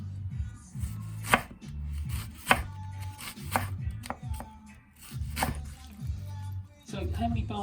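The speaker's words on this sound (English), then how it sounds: "you can sort of drop the knife down like that or slide along, whichever you feel comfortable with" A knife chops food finely on a board for crispy bhajis, sliding or dropping the blade in steady rhythmic bursts of sharp close taps with short pauses between runs.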